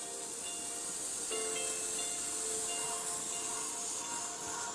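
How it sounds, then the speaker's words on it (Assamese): Water with a little refined oil heats in a pot on the stove, giving a steady, even hiss that holds at a close, moderate level throughout with no talking. "এই এটা চচত এয়া পানী গৰম কৰি আছোঁ।"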